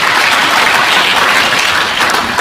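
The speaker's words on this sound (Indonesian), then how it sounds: "Tepuk tangan dong buat Tuhan." A church congregation claps loudly for God during a sermon, a thick, continuous wash of applause from many hands that carries through the whole short stretch without talk.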